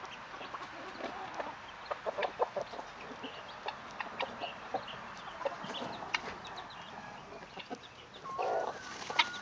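A mother hen clucking protectively over her chicks in a farmyard, with repeated short clucks and scattered calls at moderate distance, a few louder squawks near the end.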